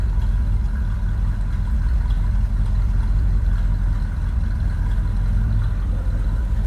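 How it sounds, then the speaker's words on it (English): A deep, steady V8 engine rumble from a 1959 Ford Fairlane 500 Club Victoria idles nearby, low and throaty, holding an even burbling pulse throughout with no voices. "A little rumble coming out of that V8."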